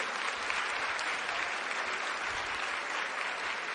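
Loud, dense applause from an audience at a Delhi government event with the LG, steady and sustained throughout with no break.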